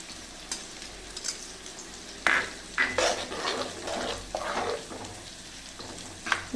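Turmeric and chopped tomato are cooking in a fish curry, with a low bubbling sizzle broken by several louder metallic spoon-and-pan clanks as the pot is stirred close by, and no voices.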